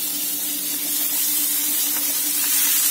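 Bitter gourd pieces dropped into hot oil already heated with turmeric and asafoetida, giving a dense, continuous, close hiss of frying that holds steady throughout with no voices.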